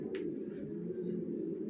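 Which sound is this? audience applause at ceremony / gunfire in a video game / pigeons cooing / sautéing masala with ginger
pigeons cooing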